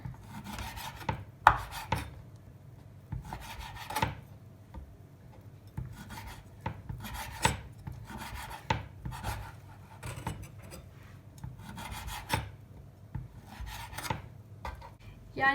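Repeated rasping strokes of a knife dicing meat into small pieces on a board, in uneven bursts about once a second, close and fairly quiet.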